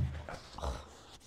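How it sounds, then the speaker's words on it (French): A small dog gives short whimpers and yips close by in a quiet indoor room, a brief soft burst with no talk over it. "Voilà, c'est le petit chien."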